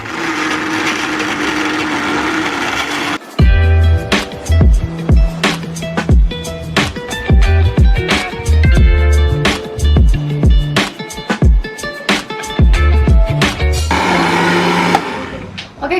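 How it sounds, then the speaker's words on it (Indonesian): A dragon fruit smoothie made with fresh milk whirs loudly in a blender, starting after a few seconds and running continuously with rattling, pulsing bursts as the blade chops, close and alone. "Oke, dan sekarang aku mau blender."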